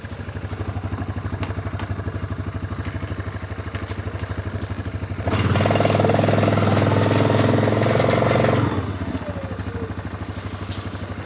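A vehicle engine runs steadily and close by while driving around a rural property, its low rumble swelling louder for a few seconds mid-way before settling back, with no talking.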